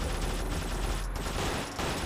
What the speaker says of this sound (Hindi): वो दूसरा गोली चला रहा भाई